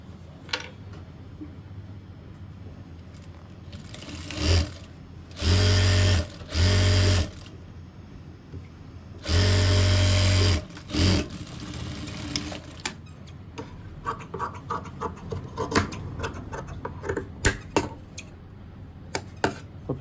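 A sewing machine stitches a suit sleeve in two loud, close bursts of rapid mechanical whirring. Scattered light clicks and handling sounds fill the quieter stretches between the runs.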